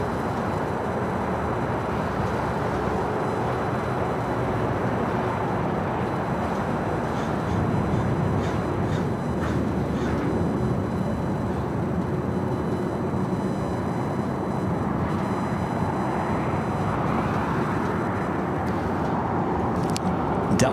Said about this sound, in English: Delta 757 coming in from San Salvador, 757-200.